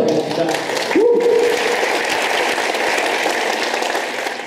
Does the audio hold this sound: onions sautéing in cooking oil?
no